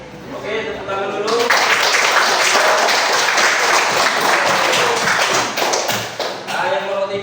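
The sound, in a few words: group clapping hands, applause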